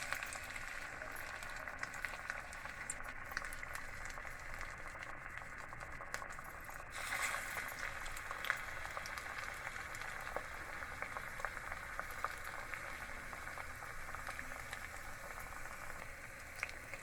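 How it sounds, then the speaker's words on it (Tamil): Prawn vadai frying in hot oil in a kadai, giving a steady, close bubbling sizzle with light crackles that holds even throughout, with no talking. "இங்கே வந்து கடாயில் எண்ணெய் சூடாக இருக்குது. இதில் நான் வந்து போட்டு ஃப்ரை பண்ணுறேன்."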